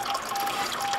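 Water trickling steadily in a jungle carpet python habitat water feature, a close, continuous babbling flow with no voices.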